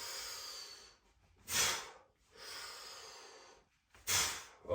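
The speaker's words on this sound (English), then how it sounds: "breathe in, breathe in, breathe out" Heavy breaths during a resistance band workout: two long airy inhales, each followed by a sharp, forceful exhale, close to the microphone with quiet gaps between.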